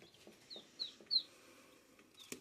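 A hen clucks softly in a few short, separate calls with brief high chirps between them, faint against a quiet background.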